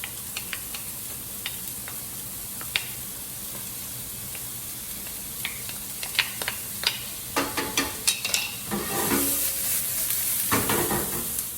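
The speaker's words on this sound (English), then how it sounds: "Once you have a hot pan, you add the oil and it starts to smoke a little bit. You add the onions." Onions dropped into a hot pan of smoking oil sizzle steadily and up close, with irregular crackles and pops building toward the end.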